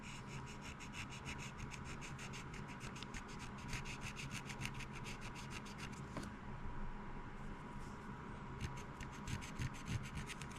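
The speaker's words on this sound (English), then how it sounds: "Go ahead and grab another Q-tip. And I'm going to give this a good little scrub down." A cotton swab scrubs the joints of a Nikon camera during a repair, making a faint, continuous rubbing scratch with quick repeated strokes, heard very close in a quiet room.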